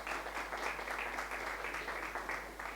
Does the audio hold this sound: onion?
no